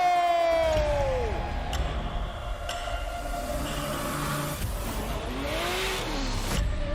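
Formula Drift pro race cars at a 2023 round in St. Louis slide sideways with loud, rising and falling engine wails and revving, under a constant roar of crowd and track noise.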